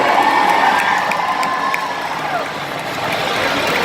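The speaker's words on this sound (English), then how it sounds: "Cheer him on as it comes to the final line." A fairground grandstand crowd cheers and shouts during a tough truck race at a county fair, a loud, continuous roar of voices with whoops over a distant engine drone.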